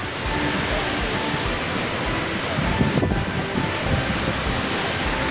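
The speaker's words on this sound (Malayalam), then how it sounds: "ആഴൊക്കെ ഉണ്ട് ഇതേ വെള്ളച്ചാട്ടം" Kanthalloor waterfall in Kerala, rushing water making a steady broadband roar close to the microphone, with some wind buffeting.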